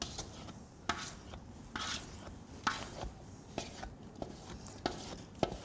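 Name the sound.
spooning banana bread batter into a tin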